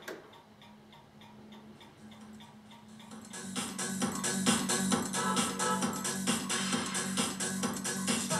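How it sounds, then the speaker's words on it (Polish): A clock ticks in a room in a steady rapid rhythm, faint at first and then louder and more prominent, alone without talking. "Prócz mojego zegara, który tutaj, prawda, hałasuje lekko."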